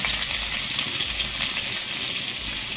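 Chopped onions fry in a generous amount of hot oil, giving a loud, continuous close-up sizzle with a bright hissing texture and no pauses.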